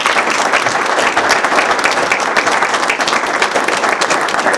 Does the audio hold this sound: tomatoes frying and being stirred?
no